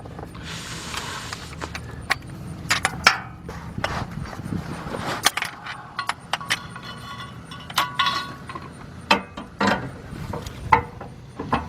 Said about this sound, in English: tighten up the 2 straps over here, the 2 bolts